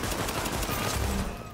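Sustained automatic gunfire in The Division survival PvP game hits the player, as a dense, loud rattle of rapid shots that continues through the whole short moment.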